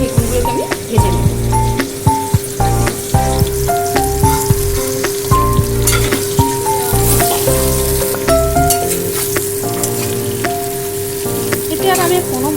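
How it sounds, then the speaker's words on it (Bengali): Eggplant pieces fry in hot oil for Bengali hilsa and eggplant curry, a loud continuous sizzle with sharp crackles and pops throughout, close up, with no talking. "এবারে বেগুনগুলোকে আমি ভেজে নেব।"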